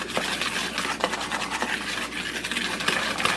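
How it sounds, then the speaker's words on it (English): Dry ingredients for a gingerbread cheesecake, including baking soda, whisked in a bowl: a steady, close scraping and rubbing with quick repeated strokes, with no talking. "Now you just want to whisk it, stir it up real good."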